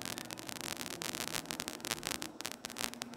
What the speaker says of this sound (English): has like a vinyl crackle quality to it, which can be a really interesting texture